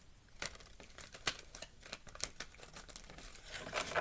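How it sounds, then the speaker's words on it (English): Tarot cards are shuffled by hand in a soft papery flurry of irregular riffles and taps, fairly quiet and close, with no talking. "Not a very good job of shuffling."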